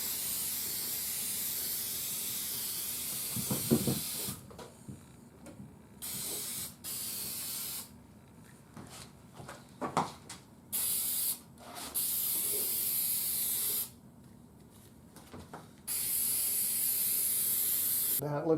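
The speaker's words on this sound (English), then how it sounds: "Now we're just going to spray a little lacquer on this to make it look shiny" Clear lacquer hisses from a spray can onto a dancing cowboy nixie tube display, in several steady bursts of a few seconds each, separated by short pauses and brief quiet handling noises.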